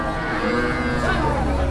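Cows low amid the din of a busy cattle market at Hozrotpur, a dense wash of crowd chatter and shouting with bovine calls rising through the noise at close range.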